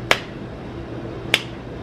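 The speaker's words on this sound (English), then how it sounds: "why are you clapping?" Two sharp, crisp hand claps about a second apart ring out alone in a quiet indoor space, each one brief and close.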